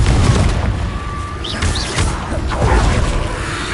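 Explosive spell blasts from the Confringo spell in Hogwarts Legacy, booming repeatedly over a busy layer of game combat noise, with short whooshing effects and impacts close and loud.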